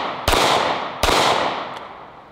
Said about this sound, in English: 45 ACP, and we're shooting this one out of the Smith & Wesson M&P Shield